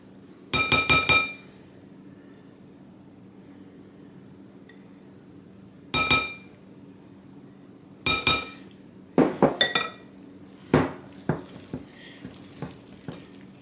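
Gluten-free pumpkin bread batter being mixed in a bowl, heard as bursts of clinking and scraping from a utensil against the bowl, in several short clusters separated by quiet pauses, close and fairly loud.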